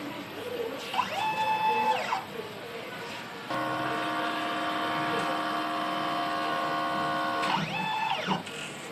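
A DTF printer runs a print head cleaning cycle: steady mechanical whirring and pump hum holds for several seconds, bracketed by rising and falling motor sweeps of the carriage moving at the start and end, with faint voices nearby.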